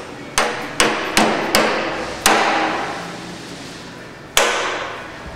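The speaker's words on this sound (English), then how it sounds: "Now I'm going to tap it right on the center, right where that hinge pin is at, because I don't want to bend this." Hammer tapping the hinge pin of a car door during a restoration build, six sharp metallic knocks in an irregular rhythm, close and loud, with ringing decay between strikes.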